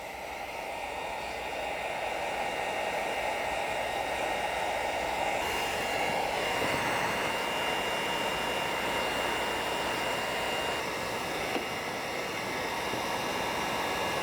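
A heat gun blows hot air over tint film on a Mazda CX taillight, producing a constant, loud, close rushing whoosh that holds steady and unbroken throughout, with no voices.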